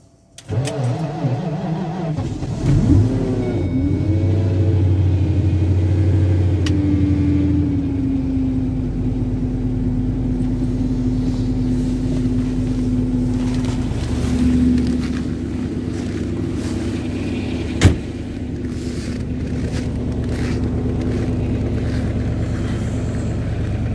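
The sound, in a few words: car engine idling after extreme cold start at -40°C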